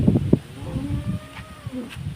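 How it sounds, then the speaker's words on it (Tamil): A cow in a village in Tiruppur district gives a long, low moo, loud and near, with a few soft rustles and thumps around it. "எம்மா மாடு"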